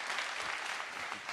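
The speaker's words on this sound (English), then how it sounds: "Big applause." Brief burst of conference audience applause, a dense and even clatter of many hands clapping with no talking over it.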